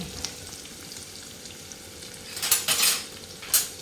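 Chopped onions fry in a pan with a steady close sizzle, broken by a few loud scraping bursts as a metal ladle stirs them, with no talk.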